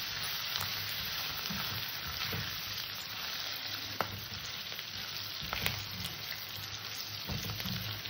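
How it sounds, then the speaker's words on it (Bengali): Potatoes with salt, turmeric and slit green chilli sauté in a pan, giving a steady, close sizzle with soft stirring scrapes and occasional louder pops throughout. "স্বাদ অনুযায়ী লবণ, পরিমাণ মতো হলুদ, হালকা করে কষে নেব।"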